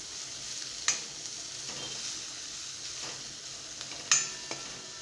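Finely chopped medium onion sautéing in a pan for dal makhani, a steady quiet sizzle with a few soft stirring clinks and scrapes, heard alone without talk.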